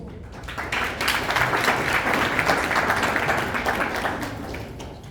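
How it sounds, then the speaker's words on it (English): Dense audience applause greets a psychologist speaker at a mental health and spirituality event, swelling quickly and staying loud and steady for several seconds before easing slightly. "He's a big, huge round of applause."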